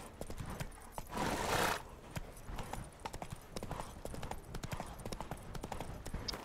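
Horse hooves clip-clopping in the video game The Witcher 3: Wild Hunt, a steady, close rhythmic trot that runs throughout, with a brief louder burst like a snort or whinny early on.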